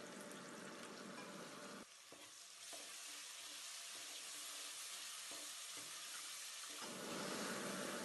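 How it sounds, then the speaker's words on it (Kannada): Tomatoes sizzle in a hot pan for mutton biryani, a steady loud fry with brief scraping stirs and a short pause where the sizzle dips before building again. "ಇದು ಚೆನ್ನಾಗಿ ಫ್ರೈ ಆಗಬೇಕು"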